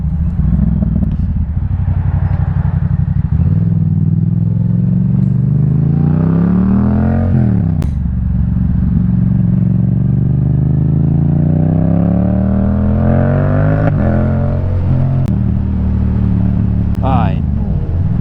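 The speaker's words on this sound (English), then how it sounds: "The sound of this bike is so amazing." A Yamaha MT-07 motorcycle engine runs loud and close, its pitch rising and falling through repeated revs and gear changes, with a person talking over it.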